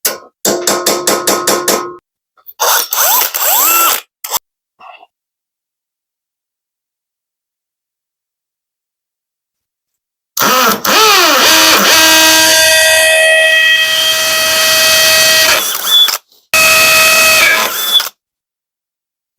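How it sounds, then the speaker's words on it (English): Bursts of power drilling into a Masterbuilt electric smoker to mount custom wheels, a few short runs, then a long sustained whine that rises and settles, loud and close with pauses between. "Let's go ahead and drill those out."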